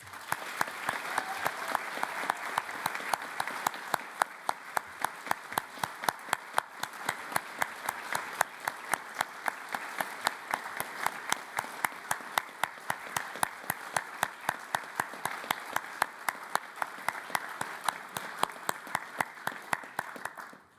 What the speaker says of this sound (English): Please, could you all join me in giving a much-deserved round of applause to all the staffs of the Staffs Games Institute.